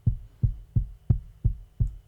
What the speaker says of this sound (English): Sounds like this on its own, just very short, kind of subby knock to the sound.